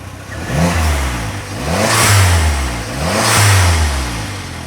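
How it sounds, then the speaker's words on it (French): A car with a newly fitted exhaust system revs hard three times in quick succession, each throttle blip rising and falling in a loud, throaty roar with short dips between, and no talking. "mets quelques coups de gaz et c'est la fête quand même, mon Nets"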